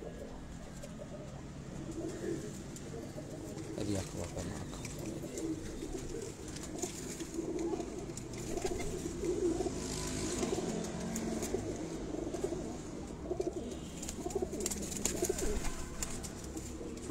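Dubai Teddy breeder pigeons coo softly and steadily on a rooftop loft, a low murmuring chorus set against faint background noise and distant traffic, with a brief voice in between.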